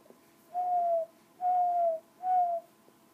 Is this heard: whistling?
yes